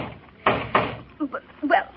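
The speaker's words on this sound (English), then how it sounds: "open the door and see what he wants, Dag Cratchit." A couple of sharp knocks land on a door, two quick raps close together, followed by soft voices talking.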